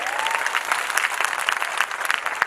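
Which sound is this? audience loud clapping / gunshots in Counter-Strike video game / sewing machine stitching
audience loud clapping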